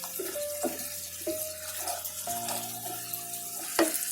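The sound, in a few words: stirring prawn kofta in a pan after opening lid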